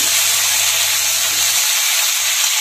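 Capsicum and onions frying together in a pan, a loud, dense, continuous hiss and sizzle with a low hum fading out partway through.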